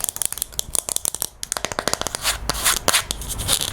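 A container of gold leafing is handled close up, giving rapid crinkly rustles, taps and scratchy rubbing in quick irregular bursts with no talking.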